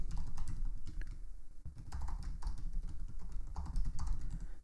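Fast, uneven clicking of a computer keyboard as credentials are typed into a text editor, with close, crisp keystrokes in short clusters and brief pauses, no voices.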